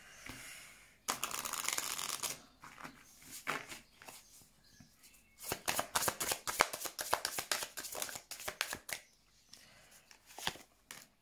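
A deck of tarot cards is shuffled by hand during a reading, giving bursts of riffling and flicking followed by a long run of quick, crisp card slaps, close and fairly soft with no talk.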